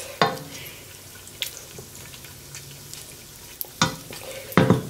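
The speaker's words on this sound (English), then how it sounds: "Get all the slices in the oil." Potato slices frying in hot oil in a pan for Cajun/Creole rice and shrimp, with a steady soft sizzle under a few sharp clatters and stirring knocks, close up and with no talk.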